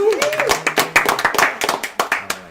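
Cast members of a community theater production clapping around a table, a small group of distinct, close hand claps in an uneven rhythm, with voices and a whoop mixed in at the start.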